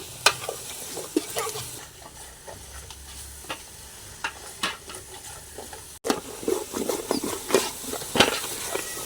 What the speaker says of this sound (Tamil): தக்காளி பழத்தை நல்ல வடிவாக கசங்க பொரிக்கணும்